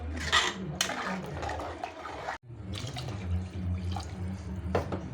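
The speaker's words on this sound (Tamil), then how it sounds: "நான் ஊற்றுற தண்ணி பார்த்தீங்கன்னா பாஸ்மதி அரிசி கழுவுனோம்ல அந்த தண்ணி ஊற்றுறேன்" Basmati rice-washing water is poured into a cooking pot, a close splashing, gurgling stream with a brief break midway, then more pouring.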